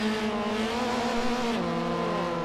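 Race car engines in Forza Motorsport 4, a loud sustained multi-tone drone from several cars running close together, pitch holding steady then stepping down near the end, no talk.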